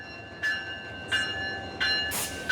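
Old local train with 1960s carriages pulling into a station, heard as faint rumbling with a few short bursts of hiss or brake noise over a steady tonal whine.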